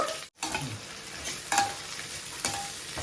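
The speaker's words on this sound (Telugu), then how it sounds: "ఇవి కొంచెం ఫ్రై అవ్వాలి కొంచెం ఫ్రై అవ్వాలండి ఇవి ఫ్రై అవుతా ఉంది కదా" Thinly sliced cabbage, onions and capsicum stir-frying in a pan for street-style chicken fried rice, giving a continuous close sizzle with scraping stirs and occasional louder tosses.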